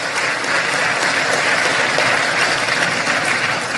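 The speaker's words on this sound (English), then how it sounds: "And we applaud you," A crowd claps in sustained, loud applause at President Cyril Ramaphosa's speech on the final results of South Africa's 2024 parliamentary elections, dense and even throughout with no voices.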